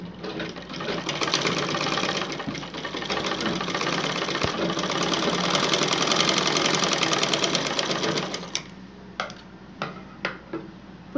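A sewing machine stitches the front part of a pair of pants, running steadily and close for about eight seconds. It then stops, and a few sharp clicks follow.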